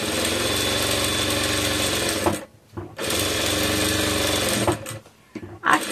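Sewing machine stitching a fabric lining for a small Easter bag, running in loud, steady mechanical bursts with two short pauses between runs.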